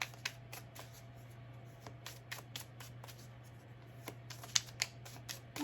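Tarot cards being shuffled by hand, a run of soft, quick riffling taps and flicks at close range over a steady low hum, with no talking.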